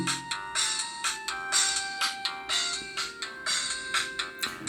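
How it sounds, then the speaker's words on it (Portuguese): A polyphonic ringtone on a Motorola T720 mobile phone plays a quick, bright, bouncy melody of short repeated notes, tinny and fairly close, with no voices. "Toques polifônicos apenas."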